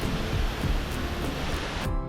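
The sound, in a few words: Gveleti waterfall rushing water, Georgia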